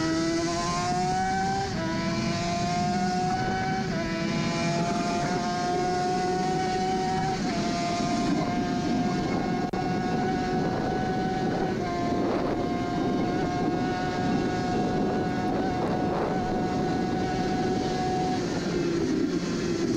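A Suzuki RG500 two-stroke racing motorcycle heard onboard at the Isle of Man, a loud close engine wail stepping up through the gears, holding a high steady pitch, with heavy wind rush throughout.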